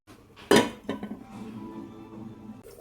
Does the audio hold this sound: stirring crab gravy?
yes